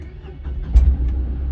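A Tata Nano with a faulty instrument meter and its engine-check and temperature warning lights on, the engine catching with a brief low rumbling burst and then settling into a steady idle, heard close up.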